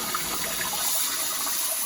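Water runs from a repaired kitchen faucet in a steady, full hiss of flow, close and continuous for a couple of seconds.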